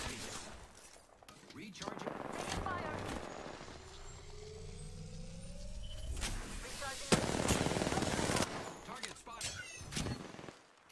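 Gunfire in the Apex Legends video game crackles in bursts across the clip, with a loud sharp shot near the middle and mixed game effects around it. A player talks over the action.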